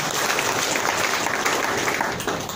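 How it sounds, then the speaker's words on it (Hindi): Audience clapping for a sponsor at a motivational seminar in Doha, Qatar: a dense, steady wash of many hands, fairly loud and continuous, tapering slightly toward the end. "प्लीज उनके लिए एक जोरदार ताली।"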